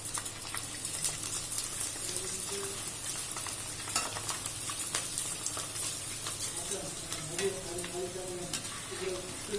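Kanji vathal, sun-dried rice-starch vadam, deep frying in hot oil in a pan, a steady dense sizzle and crackle with occasional louder pops, close and continuous.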